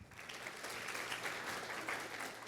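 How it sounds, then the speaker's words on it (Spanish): A church congregation applauds during a service, a fairly quiet, even wash of clapping heard from some distance and lasting throughout. "Dele un buen aplauso al Señor."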